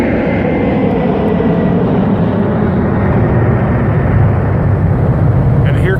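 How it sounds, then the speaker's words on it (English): Airplane passing overhead, a loud continuous broadband engine roar holding steady throughout with no pause, a voice faintly present beneath it. "And here comes another plane right where the X is."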